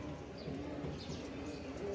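A pair of Bashiraj kokka pigeons, a male and a female, coo steadily through continuous low murmuring, with a few brief chirps over a busy room-tone background and no talk.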